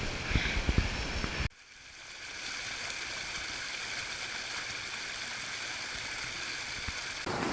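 River water flows steadily during a river crossing in the Brecon Beacons, a constant rushing wash heard close by, preceded by a brief burst of louder handling noise at the start.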